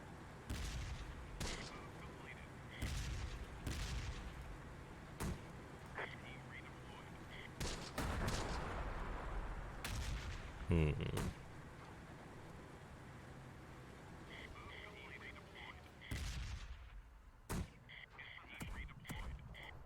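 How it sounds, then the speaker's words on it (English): Mortar fire in the World War II strategy game Close Combat: The Bloody First, as scattered booms and sharp blasts spread over twenty seconds against rumbling battle ambience, with people talking at times. "Definitely got mortars over here."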